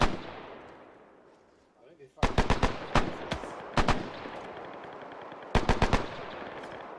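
Gunfire in the Arma 3 video game during a WWII military simulation platoon exercise: loud close bursts of rapid automatic shots fired in short strings, with a rushing noise and faint voices underneath.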